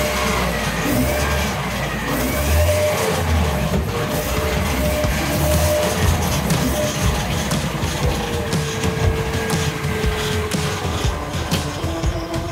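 A Nissan Silvia, freshly converted to a manual gearbox and making some odd noises, runs with a loud, steady, rumbling engine drone that fills the whole stretch without letup.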